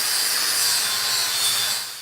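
A Norton EasyTrim trimmable flap disc grinding on an angle grinder, a steady loud bright abrasive whine held for about two seconds, easing slightly toward the end, with no talk.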